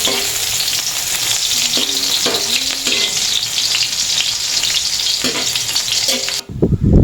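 Garlic and onion sautéing in hot oil for pancit bihon, a loud, close, continuous sizzle broken by scraping stirs throughout, cutting off abruptly near the end.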